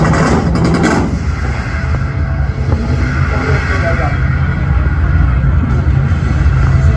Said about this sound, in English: Celebrating the invention of the rev limiter, ladies and gentlemen.